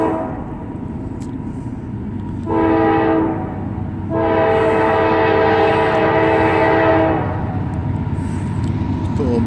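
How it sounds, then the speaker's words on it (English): Long double-decker freight train hauled by two engines, rumbling steadily as it passes, with a loud sustained horn sounding twice, the second blast much longer. "And this is a double-decker too. It looks like a long train."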